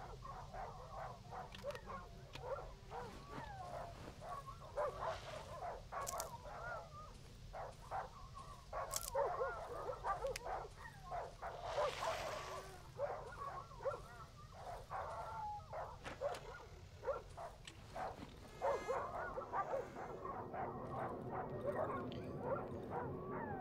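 Dogs bark, yip and whimper at varying distances in the dark survival game Darkwood, scattered irregular calls over a low rumbling ambient bed, with occasional talk over them.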